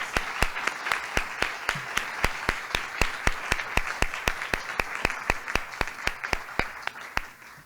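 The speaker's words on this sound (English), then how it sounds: "So let's please give them another round of applause" Applause from a commencement audience for history graduates at UW-Madison: a steady run of sharp, evenly spaced claps that sound like a few hands close by, continuing without pause throughout.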